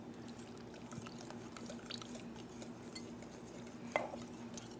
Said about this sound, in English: you whisk it while she pours in